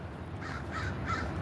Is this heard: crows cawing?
yes